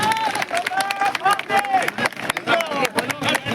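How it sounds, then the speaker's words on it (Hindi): An audience at a political rally claps loudly and steadily for Somnath Bharti, a dense close crowd of hand claps with voices mixed in throughout. "एक बार जोरदार तालियां सोमनाथ जी के लिए हो जाइए आप लोग"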